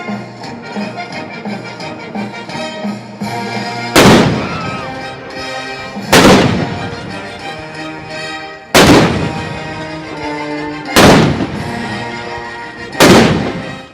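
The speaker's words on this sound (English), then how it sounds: "In the piece, he used real military cannons, combined with massive orchestra and choir." Real military cannons boom in Tchaikovsky's 1812 Overture, five loud, sharp blasts spaced a couple of seconds apart over a massive orchestra playing full and sustained beneath them.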